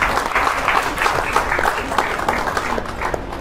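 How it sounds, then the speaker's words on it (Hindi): Sustained applause from a seminar audience in Goa fills the room, dense and even clapping continuing steadily throughout at a strong level. "इसके लिए जबरदस्त तालियां एक बार अपने लिए बजाइए।"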